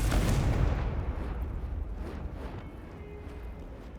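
Confringo blasting-spell explosion in a Harry Potter video game, a heavy booming burst up front that rumbles and decays over several seconds.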